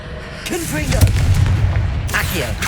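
Confringo fire spell in the video game Hogwarts Legacy, a sharp crack building into a loud rumbling booming burst with sweeping whooshes, over game noise and a voice shouting.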